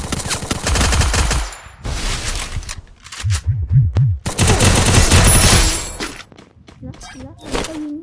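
Guns fire in a video game in loud rapid bursts of automatic shots, broken by short pauses, with a voice talking over parts of the action.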